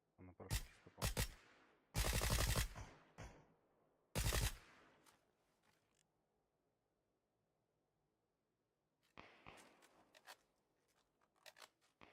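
Gunfire in PUBG on the Miramar desert map: several sharp, loud bursts of shots cluster early, then silence, then a later run of quieter, scattered cracks as if from farther off.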